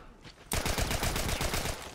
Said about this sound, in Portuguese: Vou jogar uma bombinha pra você aí.